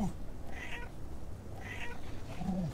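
A cat meows in the video game Paws: A Shelter 2 Game, with two clear mid-pitched meows spaced about a second apart over a quiet game background.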